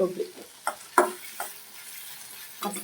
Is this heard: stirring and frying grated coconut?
yes